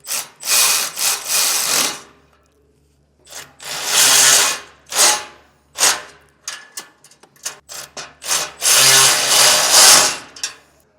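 A power tool tightens down the mount of a Stromberg Carlson trailer tray cargo carrier on a 2019 Forest River trailer, firing in several loud close bursts of whirring and rattling separated by short pauses, with no talk.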